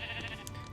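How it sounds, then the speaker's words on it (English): A single short sheep bleat from Minecraft, brief and fairly faint, heard alone. "hello sheep"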